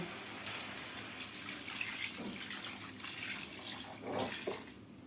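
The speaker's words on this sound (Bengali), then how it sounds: "এখন আমি এটাতে ঝোল দিয়ে দিব" Water pours into a simmering katla fish curry with pumpkin bori to make a thin broth, a steady moderate splashing stream with brief louder surges, no voices.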